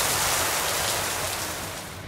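Heavy rain pours down in a dense, steady hiss, loud and close, with no voices, in the Pichavaram mangrove forest.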